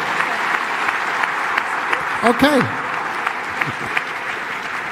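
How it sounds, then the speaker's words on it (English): Audience applause at a live Save Soil public event: a continuous, even wash of many hands clapping, with a brief spoken word and a short voice-like sweep breaking through midway. "Everybody's clapping their hands for you."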